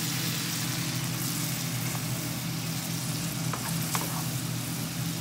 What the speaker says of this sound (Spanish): Ahora vamos a agregar los vegetales juntos todos. Y vamos a revolver.